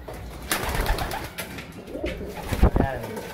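Black velvet racing pigeons coo at a loft, soft repeated calls close by, mixed with bird rustling and a few sharp knocks, with a person talking in the background.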